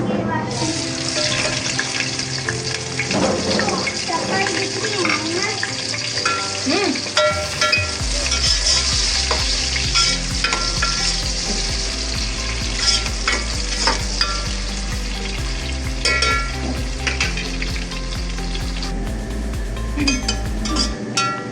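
Sliced onions fry in hot oil in a cooking pot for chicken korma, with a loud, continuous close sizzle broken by occasional stirring scrapes throughout.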